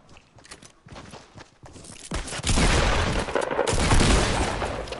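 Gunfire in a shooter video game erupts as a loud burst of rapid shots after a couple of seconds of quieter scattered thuds and footsteps, sustained to the end.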